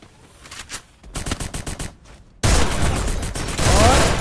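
Gunfire in a battle royale video game: bursts of rapid shots, then a dense, loud, continuous volley of automatic fire in the last two seconds.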